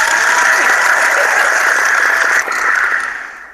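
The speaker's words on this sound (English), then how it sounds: "Here, let me give you another hand clap." Applause from a group of people at an interview about breast cancer survival, a steady wash of clapping that holds evenly, dips briefly, then tapers off near the end.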